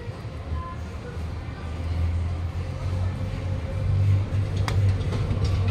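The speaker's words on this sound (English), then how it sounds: "Train cepat." A train carries riders at Angsana with a steady low rumble and rolling hum throughout, its rumble swelling slightly toward the end, and a faint click or two above it.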